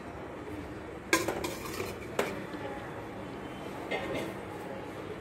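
Metal pots and pans are handled while dal-and-rice dhokla is set to steam. A couple of distinct clanks and clinks ring out over a low background hum, followed by a softer rattle.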